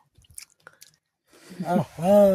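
Someone picks and chews aiselu berries outdoors: a few soft, brief wet chewing and biting clicks, close and faint, followed by a person talking.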